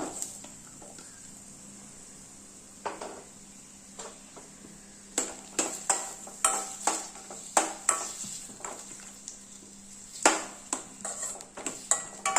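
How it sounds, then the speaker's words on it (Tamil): Onions and ginger sauté over medium flame in a pan for tomato chutney, with a low steady sizzle under a hum and repeated close clinks and scrapes of a spoon stirring. "மீடியம் ஃப்ளேமில் வச்சே வதக்கிக்கோங்க. கூடவே இப்போ வெங்காயத்தை போட்டுருங்க."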